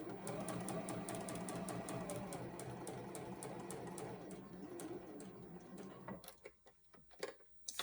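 Sewing machine stitching quilt seams, a steady rapid mechanical whir with regular ticking that runs continuously before slowing into a few separate stitches near the end.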